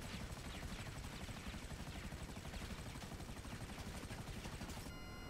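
Helicopter rotor from GTA Online, a low-skill beginner chopper, thumping steadily and loudly in a dense continuous wash through the whole stretch, with no talk over it.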